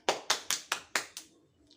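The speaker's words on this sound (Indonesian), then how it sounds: "Berikan aplaus untuk kelompok 2" A classroom group claps for group 2, six sharp, evenly spaced hand claps that are close and crisp, then fade out.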